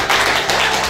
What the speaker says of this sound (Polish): proszę Państwa, brawa